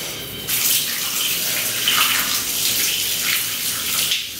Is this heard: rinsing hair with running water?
yes